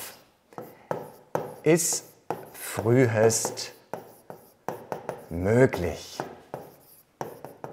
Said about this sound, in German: Ich schreibe das mal auf.